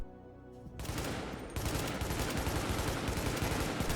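FAU burst-fire assault rifle in the video game The Division: after a brief quiet moment, dense, loud rapid gunfire erupts and continues steadily to the end, close and heavy.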